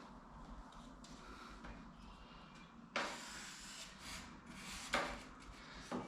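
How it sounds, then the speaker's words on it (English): A Sharpie marker scribes a line along the rib of a Ski-Doo DS4 ski, giving quiet rubbing and scratching strokes with two sharper swipes near the middle and end, close up and faint, with no talking. "I'm just gonna use a Sharpie."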